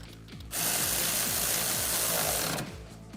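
Power impact tool tightening nuts on A-arm hardware of a Kawasaki Teryx KRX 1000 UTV, a single rapid rattling burst of about two seconds, loud and close.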